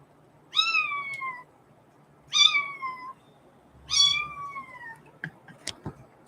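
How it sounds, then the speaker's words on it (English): A sleeping kitten lets out three distinct, drawn-out meows spaced about 1.5 seconds apart, close and clear in a quiet room, followed by a few faint soft clicks. "He's asleep and he's meowing."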